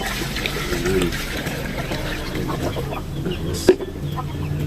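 Chicks and chickens cluck at feeding time while vitamins are mixed into their feed. The soft, scattered clucks mix with a light rustling background, and a person talks over them.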